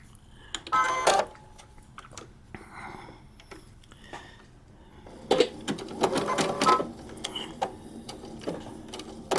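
A vintage sewing machine stitches a quilt's mitered corner in two short bursts of rapid mechanical clatter, close and moderately loud, with quiet pauses between runs.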